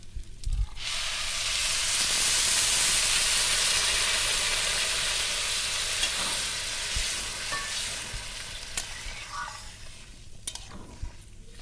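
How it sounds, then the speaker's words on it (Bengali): Water poured into a hot pan of frying gobindobhog rice sets off a loud, steady hiss and sizzle that slowly eases over several seconds, with faint clinks near the end. "এবার আমি এখানে পরিমাণ মতো জল দেবো"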